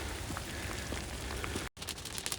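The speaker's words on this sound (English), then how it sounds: "It's raining on the ground glass. Actually, it's hailing." Hail pattering on the ground glass of a homemade 4x5 large format camera outdoors, a dense steady crackle of small impacts throughout, briefly cut off near the end before resuming.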